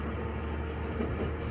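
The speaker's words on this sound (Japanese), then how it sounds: "列車は上総清川駅を出発。" A JR Kururi Line train pulls out of Kazusa-Kiyokawa Station in rural Chiba, a steady low rumble of the railcar rolling along, moderately near with no voices.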